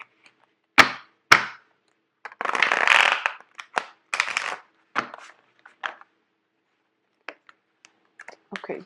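Tarot cards are shuffled by hand in several short, crisp riffling bursts with brief pauses between them, close and clear against near silence.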